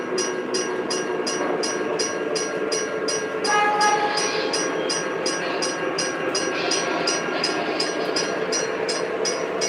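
An MTH Rail King model train fitted with Proto Sound 3 runs steadily on its track, with a continuous rolling hum and a regular pulsing chuff or clatter throughout, moderately close and with no talk.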